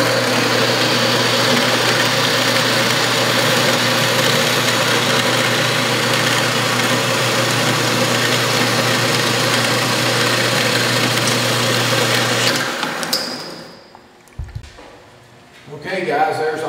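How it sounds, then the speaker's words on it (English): A machine-shop power saw runs steadily while cutting metal parts for ram rod retaining blocks, a loud continuous whining drone that stops abruptly near the end, leaving a few clanks. "I think you got a better view that time of the saw in action."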